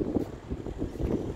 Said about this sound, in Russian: Ветер, кстати, дует сильно.